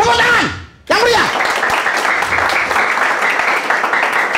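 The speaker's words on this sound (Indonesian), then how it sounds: "Tepuk tangan yang meriah." Dense congregation applause in a church service swells after a brief sung or spoken phrase and a short gap, then carries on steadily and loudly to the end, a crowd of many hands clapping together.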